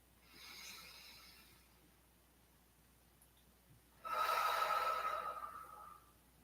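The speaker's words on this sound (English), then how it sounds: "And breathe." A slow, deep yoga breath: a soft inhale followed after a pause by a louder, longer exhale, close and alone with no talk.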